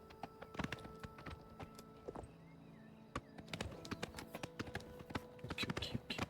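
Horse hooves clip-clopping at a quick, uneven pace while riding in the video game Oblivion Remastered, faint and mixed with scattered taps and game ambience.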